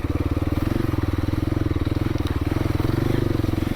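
Kawasaki KLX300 dirt bike on a trail ride over soft dirt atop solid ground, its single-cylinder engine chugging in a steady, close, loud idle-to-low rev pulse throughout, with no talk.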